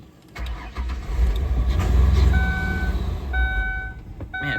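A van with a bad-gas problem cranks after starting fluid is sprayed in, its starter grinding steadily up close for several seconds with a low engine rumble, accompanied by faint warning-style electronic beeps.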